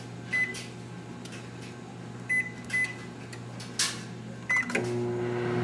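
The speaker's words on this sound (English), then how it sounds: "I'm going to go ahead and close the microwave." A microwave door clicks shut and several keypad beeps sound, then the oven starts with a steady low hum that continues to the end.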